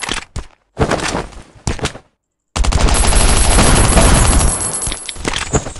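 Firearms in the survival game Last Island of Survival fire during a raid on the Harbor, close, sharp bursts separated by short silent gaps, then a longer sustained volley of rapid shots that fades into scattered final rounds.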